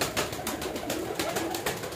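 Pigeons in a breeder loft coo steadily and close by, their soft repeated calls layered over a continuous hiss of background noise.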